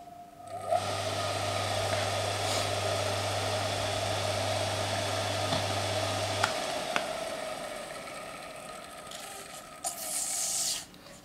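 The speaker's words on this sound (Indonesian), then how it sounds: "motor ini masih bisa berputar, akan tetapi dengan syarat membutuhkan bantuan dari kita gitu ya, untuk memutar asnya secara manual." An electric water pump motor with a faulty auxiliary capacitor runs with a steady, faint electrical hum and whine. A low drone cuts out partway through, and a short rubbing burst comes near the end.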